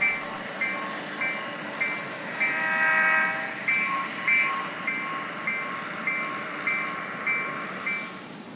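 A train on the Johnstown & Gerryville model railroad rolls down the track into the rail yard with a steady running hum, rhythmic clicks about every half second and a thin high tone.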